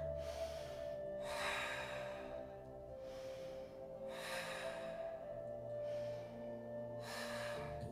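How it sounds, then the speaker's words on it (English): Steady breathing during a yoga pose, with soft inhale and exhale rushes recurring about every three seconds over a constant low musical drone. "Breathing here."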